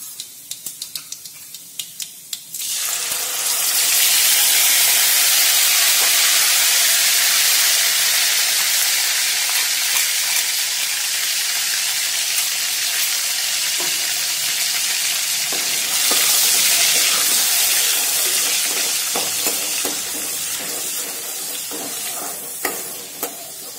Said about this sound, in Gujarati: એક મિનિટ માટે આપણે આ રીતે જ આ ટામેટાની પ્યુરીને ચડવા દઈશું.